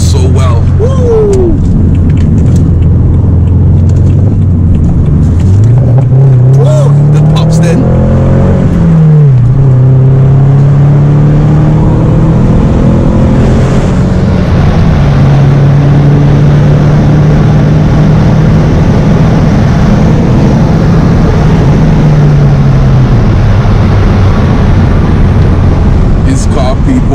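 A six-speed manual BMW 1 Series E82 drives through bends, its engine droning loudly from inside the cabin with pitch rising and falling as it accelerates, shifts and settles, while someone talks over it.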